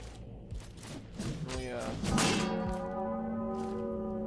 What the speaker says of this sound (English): Do we get anything by ringing the bell?